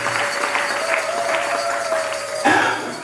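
A church congregation applauds during a Sunday worship service, a steady wash of crowd clapping in a reverberant hall with a sustained tone underneath and a brief swell near the end.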